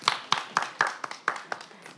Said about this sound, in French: Non, ça s'applaudit